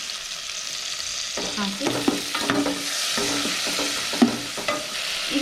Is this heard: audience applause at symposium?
no